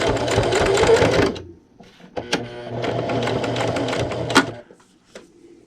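Sewing machine stitching and backstitching a pint-size ice cream cozy, two rapid motor-driven bursts of needle clatter separated by a short pause and a few clicks, close and clear.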